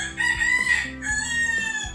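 A rooster crows close by, its drawn-out call rising and holding over a few seconds, with faint clucking and farmyard noise beneath.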